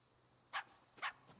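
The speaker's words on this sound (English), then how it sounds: "I hear you barking, dog." A dog barks in the farming video game Luma Island: two short, sharp barks about half a second apart, fairly close and clear over a quiet background.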